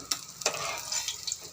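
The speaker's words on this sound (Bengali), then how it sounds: "মাছটা আমার ভাজা হয়ে গেছে" Fish fries in hot oil in a pan with a quiet, steady sizzle, punctuated by a couple of light clinks and scrapes as it is handled.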